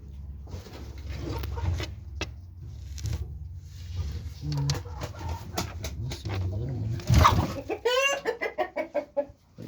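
Hens cluck and squawk close by, building into a rapid run of clucks near the end, with some low background noise.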